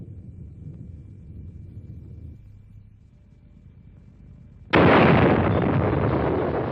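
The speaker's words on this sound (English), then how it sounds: "The explosion was the equivalent of more than 50 million tons of TNT" Archival footage of a nuclear bomb test, a blast equal to more than 50 million tons of TNT, heard as a loud, sudden broadband roar that keeps rumbling after a quieter low background hum.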